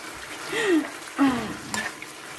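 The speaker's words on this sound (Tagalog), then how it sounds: "ilagay ko muna ang ating red onions para ang sarap niya" Red onions fry in a pan with a soft background sizzle, broken by a few brief louder bursts and scrapes, while a voice speaks faintly over the cooking.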